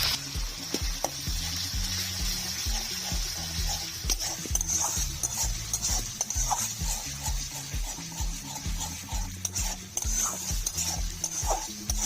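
Ground medium-sized tomato going into a hot pan for an egg masala, with a steady sizzle under repeated scraping and stirring strokes of a utensil against the pan, close up, with no voices.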